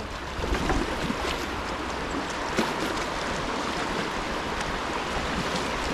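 Water rushes over shallow, rocky river riffles beneath a paddled boat, a steady broadband wash with some wind noise and an occasional splash, close and continuous, with no talking.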